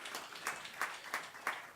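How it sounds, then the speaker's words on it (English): Applause from an audience at a cannabis licensing talk, a brief, fairly faint patter of claps with a few sharper bursts recurring every half second or so, with no voices. "I think we should all give ourselves a round of applause"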